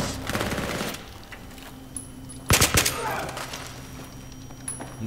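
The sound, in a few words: gunfire in Battlefield 3 video game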